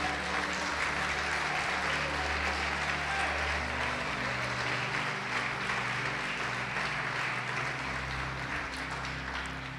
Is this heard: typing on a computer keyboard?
no